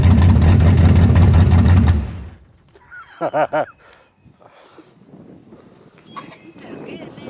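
A Camaro engine roars loud and steady for about two seconds, then cuts off abruptly, leaving a quieter stretch with voices talking and scattered shop noises.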